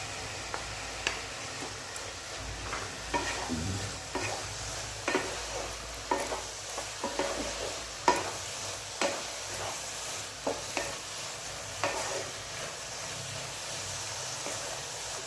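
Fried potatoes with spices stir-fried in a pan, giving a steady low sizzle broken by repeated clinks and scrapes of a spoon against the metal, no voices.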